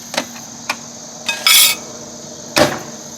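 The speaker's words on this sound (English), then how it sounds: "make sure to put your cutlery in there with it" Metal cutlery clinks and clatters against dishes as it is set into a microwave: a few sharp separate taps, a brief scraping rattle, then one more clink, close and fairly loud.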